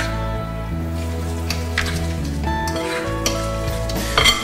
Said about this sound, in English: give this a mash with a fork